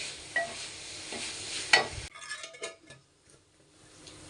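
Jaggery modak filling being stir-fried in a pan, a soft sizzle with stirring and clinks of a spoon against the pan, followed by quieter scattered scraping once the heat drops.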